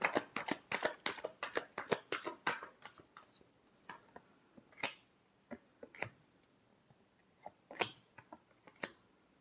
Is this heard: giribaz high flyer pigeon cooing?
no